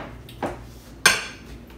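A metal spoon scoops thick Alfredo sauce from a jar in a kitchen, giving two sharp clinks against the glass, the second louder, with quiet pauses around them.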